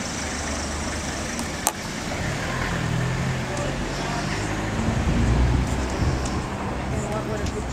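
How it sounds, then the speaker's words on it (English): A car passing on a narrow town street in Dingle, Ireland, a steady rising and falling engine and tyre rumble close by, mixed with broad roadway noise and voices talking. "don't get hit by this car"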